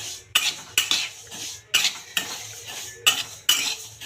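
Sesame seeds dry-roasting in a pan for til gul ladoo, stirred with a metal spoon: repeated sharp scraping strokes against the pan at an uneven, unhurried pace, close and loud, over a soft hiss and with no talking.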